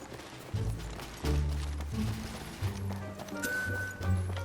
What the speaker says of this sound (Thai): เสียงเท้าครับ